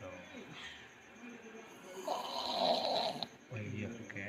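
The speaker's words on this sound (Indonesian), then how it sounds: "Ini ngorok guys." A sleeping person snores heavily, each rough, rumbling inhale swelling and fading, loud and deep like distant thunder, while someone talks quietly nearby.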